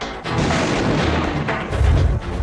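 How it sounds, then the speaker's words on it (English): Heavy artillery fires in a loud, close burst, with deep booming blasts and a broad rumbling roar that swells again near the end. "That's what heavy artillery is all about."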